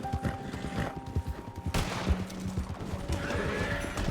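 A horse in Red Dead Redemption 2 lets out two shrill neighs over hoof clatter and scattered gunfire, followed by a louder burst of commotion and another rising whinny near the end.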